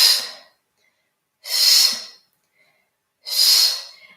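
Three forceful exhalations pushed out through pursed lips during a yoga shooting-breath exercise, each a close, breathy hiss lasting about half a second to a second, separated by near silence.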